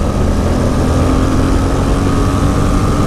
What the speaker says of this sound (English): Looks like first gear rev limiter is about 40, second gear's to 70